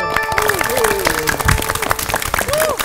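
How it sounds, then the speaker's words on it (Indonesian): A studio audience applauds on an Indonesian TVRI quiz show, with steady clapping that runs under a host speaking and a faint musical tone. "Tepuk tangan sekali lagi."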